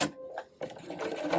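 A sewing machine does straight stitching with a zigzag foot in a brief close whirring run, a short pause, then the motor picks up again.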